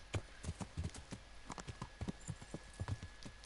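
Hooves of an expensive horse on a bridge clip-clop steadily in the Kingdom Come: Deliverance video game, each clear step distinct in an even walking rhythm, close and alone.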